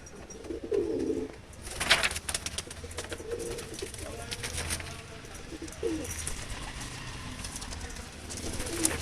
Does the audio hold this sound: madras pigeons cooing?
yes